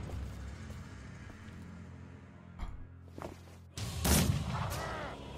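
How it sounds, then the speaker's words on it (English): A sniper rifle shot fires in Mordheim, City of the Damned, a sudden sharp crack that rises out of a quiet ambient bed and rings off into a louder, rumbling tail near the end. "Sniper shot is amazing."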